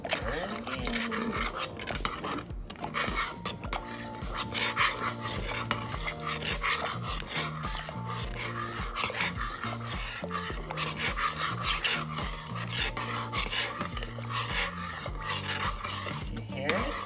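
Spanish rice is stirred in a pan, a continuous scraping and rubbing of utensil against metal with a gritty sizzle running steadily throughout, close up.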